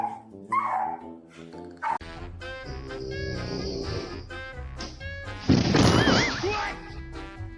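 A dog yips and barks in several loud, close bursts mixed with whimpers, a crash and excited human voices in a busy, lively scene.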